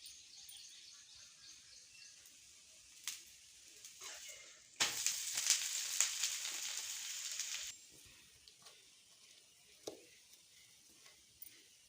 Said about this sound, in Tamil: கொஞ்சம் ஆயில் அப்ளை பண்ணி நீங்கள் வந்து வேக வச்சுக்கோங்க